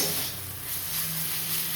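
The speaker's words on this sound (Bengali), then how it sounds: "এদিকে দেখো মেথি শাক ভাজা বসিয়ে দিয়েছি বেগুন দিয়ে" Fenugreek greens and eggplant frying in a pan on a home stove, a steady close sizzling hiss with faint stirring, no talking.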